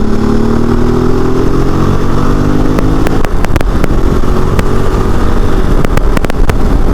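A KOVE 450 Rally single-cylinder adventure motorcycle being ridden, its engine droning loud and close, rising in pitch as it accelerates through the gears with sharp clicks and buzzes over the steady mechanical roar.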